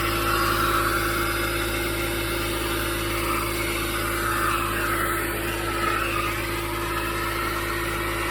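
A Nissan Armada engine being turned over during intake valve cleaning, heard as a steady, even mechanical hum that continues alone for several seconds with no talking.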